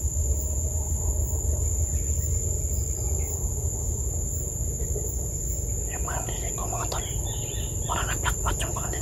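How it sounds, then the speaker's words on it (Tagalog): Insects chirp continuously in a steady, high-pitched drone, with a few faint bird-like chirps scattered in the background. "puro mga mga huni ng mga insekto lang naririnig ko mga tol"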